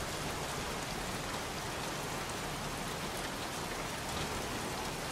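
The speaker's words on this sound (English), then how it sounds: "Goddamn rain." Steady, even rainfall in the video game Heavy Rain hisses continuously, a dense patter of drops on surfaces with no pauses or voices.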